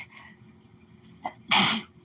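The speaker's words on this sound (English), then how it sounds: "I gotta sneeze. Hang on, I gotta sneeze." A single loud, explosive sneeze bursts out after a brief sharp intake of breath, close to the listener, with quiet room noise before it.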